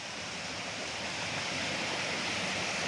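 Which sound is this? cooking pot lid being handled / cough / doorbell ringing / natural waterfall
natural waterfall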